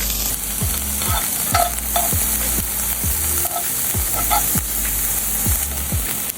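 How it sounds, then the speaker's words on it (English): Onions sautéing in butter in a pan make a loud, close, continuous sizzle, with regular scraping and tapping strokes from a utensil about twice a second, and no talk. "Saute onions."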